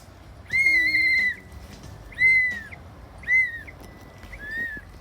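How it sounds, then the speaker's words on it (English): A child's toy whistle is blown in four short, shrill tones, the first held longest and the rest briefer, loud and close with quiet gaps between them. "It's a whistle."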